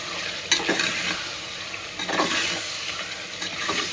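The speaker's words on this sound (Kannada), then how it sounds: "ಈಗ ಹಸಿಮೆಣಸಿನ್ಕಾಯಿ ಹಾಕಿನಿ ಜಿಂಜರ್ ಗಾರ್ಲಿಕ್ ಪೇಸ್ಟ್ ಪುದೀನ ಕೊತ್ತಂಬರಿ ಹಾಕಿ ಚೆನ್ನಾಗಿ ಮಿಕ್ಸ್ ಮಾಡಕತ್ತೀನಿ" Green chili, ginger garlic paste, mint and coriander stirred with mutton for Gulbarga-style mutton tahari, a steady close sizzle broken by a few scraping stirs of the spoon in the pan.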